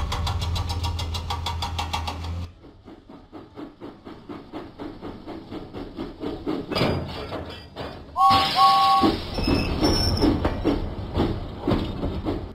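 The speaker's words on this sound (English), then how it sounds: "James pumped his pistons and puffed out of the docks." James the steam engine in a Thomas and Friends video game puffs out of the docks with rhythmic chuffing that builds after a short burst of game music, followed by louder engine noise and brief whistle-like tones.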